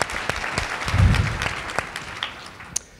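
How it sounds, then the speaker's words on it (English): A conference audience applauds in a hall, a full burst of clapping with some sharp individual claps and a low rumble in the middle, gradually thinning out over three seconds. "I just want to give another warm round of applause to Eric and the team"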